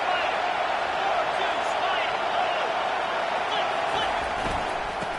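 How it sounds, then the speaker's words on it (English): Stadium crowd at a college football game roars as a dense, steady wash of noise with no clear breaks, urging on the home defense. It sounds broad and distant, with faint scattered shouts within. "It is getting loud as this crowd tries to help its defense."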